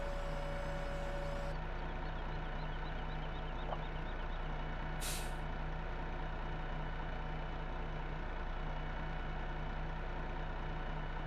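A truck idling steadily inside the Farming Simulator 15 video game, with a continuous low engine rumble. Near the start a reversing beep sounds briefly, and a short hiss of air brakes is released around the middle.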